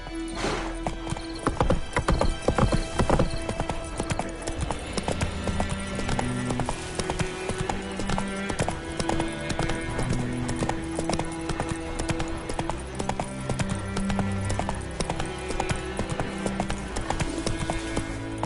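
A horse gallops in The Witcher 3: Wild Hunt on PS5, with rapid rhythmic hoofbeats throughout, an early whinny and a game score playing under them.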